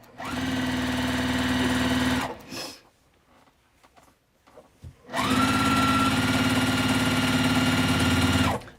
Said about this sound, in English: But now I'm back to sewing.